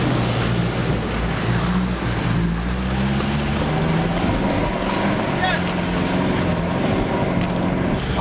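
A 4x4 on a Nigerian track known as treacherous in the rainy season fords a river. A steady low engine drone mixes with rushing water and wind buffeting the microphone throughout.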